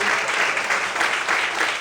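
A church congregation at a Portuguese-language evening service applauds in praise of the Lord, a loud, close wash of many hands clapping that stays thick and unbroken for nearly two seconds.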